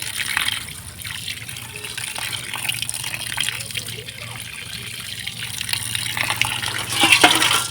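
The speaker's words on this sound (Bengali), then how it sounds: "এই তো কাটা হয়ে গেছে, আমি ধুয়ে নিচ্ছি" Cut meat is rinsed under running water, with a continuous close gush and splatter that rises slightly toward the end.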